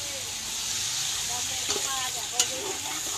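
Sausages and other street food fry in a hot pan at a Siem Reap stall, a loud steady sizzle with hiss and a couple of sharp stirring scrapes, close by, with voices talking faintly underneath.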